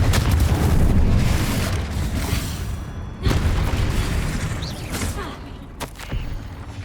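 Blasting-spell explosions from the Hogwarts Legacy video game come as heavy booming bursts. One long rumbling blast fades out, then sharp detonations follow near 3 and 6 seconds, each with a quick crackling decay.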